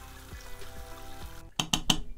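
Scalding hot water gushes from a homebrew grain-rinsing system, a rushing pour close up followed by three sharp clanks of metal.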